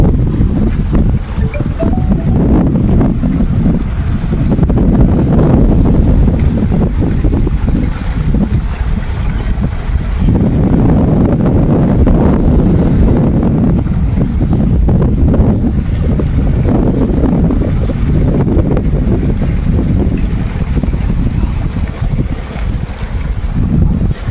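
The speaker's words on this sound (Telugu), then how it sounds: "ఇప్పుడు మనం కాల్ ద్వారాగా మోటార్ అనేది ఆన్ చేసాము" A loud, steady farm water pump motor drone runs without a break, a continuous rumbling hum with some windy noise layered over it.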